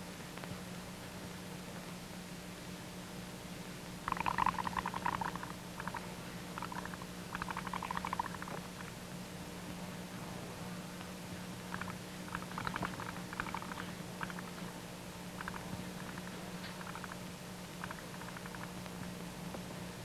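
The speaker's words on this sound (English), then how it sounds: "blowing lots of little bubbles" Someone blows slowly through a pipe into water, making scattered bursts of small bubbling and gurgling over a steady low hum, some bursts close and clear, others softer and intermittent.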